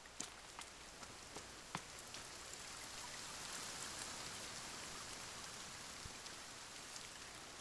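Rain falling in the survival game The Forest, a soft, even patter with scattered sharper drops landing nearby, fairly faint and steady throughout, no voices.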